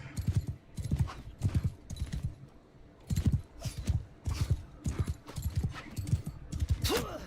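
Horse hooves in Bannerlord 2 clopping in a quick, regular galloping rhythm, loud and close throughout, with a short whinny-like sweep near the end.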